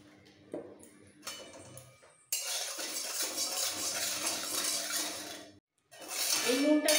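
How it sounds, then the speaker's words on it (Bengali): Salt dry roasting in a pan while a spoon stirs it, giving a dense, gritty scraping rush that runs for a few seconds, stops briefly, then resumes, with faint clinks of utensils before it. "এই নুনটাকে ড্রাই রোস্ট করার মতো একটু ভালো করে নাড়াচাড়া দিয়ে নামিয়ে নেবো।"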